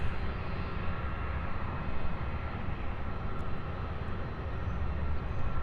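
Aircraft engine roar at UPS Worldport, Louisville International Airport, a steady broad rumble that stays loud and continuous throughout, with no talking.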